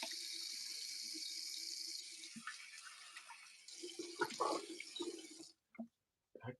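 A hot water tap runs steadily into a sink during a shave with a vintage Gillette Slim Adjustable safety razor, a continuous close splashing hiss that is cut off near the end, followed by a few brief knocks.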